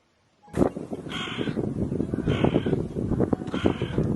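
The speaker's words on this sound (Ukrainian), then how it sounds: "Ворона чорно-сірого забарвлення. А ще вона голосно каркає." A large black-and-grey hooded crow caws loudly in a run of harsh, repeated calls, close and clear with no talk over it.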